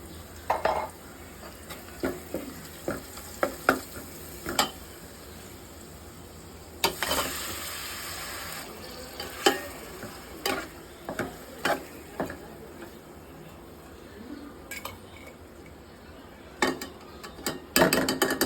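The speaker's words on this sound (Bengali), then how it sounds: "লাল মরিচের গুঁড়া দিয়ে আমি এখন ইলিশ মাছটা কষাবো" Hilsa fish being fried in a pan with red chili powder, turmeric and a little coriander for a village-style curry, a faint steady sizzle broken by frequent sharp spatula scrapes and stirs against the pan.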